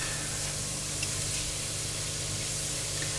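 Browned beef shanks hiss and sizzle steadily as a hot pan is deglazed, a dense, continuous spray-like crackle held close and loud with no talking.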